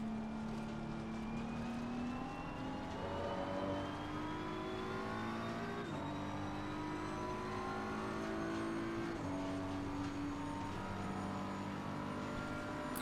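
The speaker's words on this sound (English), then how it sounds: "As always though, car sounds excellent." A BMW M4 GT3 race car engine in the racing game Assetto Corsa Competizione roars loudly and continuously, rising in pitch through the gears with brief shift drops, no talking.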